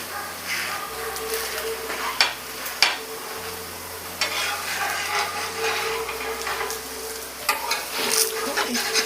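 A bread dosa roasts on one side in a pan, sizzling softly and steadily with occasional sharp clicks of a utensil against the pan over a faint low hum.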